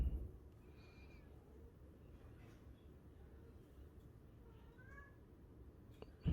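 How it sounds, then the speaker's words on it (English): A house cat meows faintly several times in a quiet room, short rising calls around the middle of the stretch, with low background hiss and no talk. "My cat woke up."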